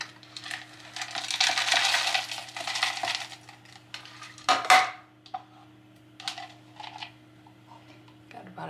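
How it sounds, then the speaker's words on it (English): Half a cup of almonds poured into a mixing bowl that already holds two cups of oats, giving a close, busy rattle of hard nuts for a few seconds, then a few sharper clinks and scattered knocks. "And I'm going to do half a cup of my almonds."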